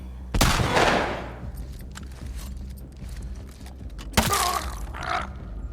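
Gunfire in The Last of Us Part II: a loud broadband gunshot near the start, then a quieter stretch with mechanical clicks, and a second sharp shot followed by a brief rattling burst toward the end.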